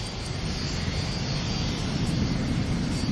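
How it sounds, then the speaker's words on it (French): A supersonic jet, a spy's fictional aircraft in an animated adventure, roars steadily at full speed through the clouds, a dense, continuous broadband rush of engine and wind noise that holds loud and even throughout, with no talking. "l'avion supersonique d'James Bond, file à toute vitesse à travers les nuages"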